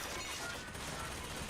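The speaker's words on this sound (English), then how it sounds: "Oh, you're shooting at me now?" Enemy gunfire rattles in the first-person shooter game Bioshock Infinite, a dense sustained burst of shots blending into a continuous wash of noise at moderate loudness, with no voices over it.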